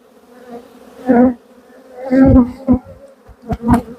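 Honey bees buzz around an open hive at a quarantine apiary in close, droning passes that swell and fade as individual bees fly near.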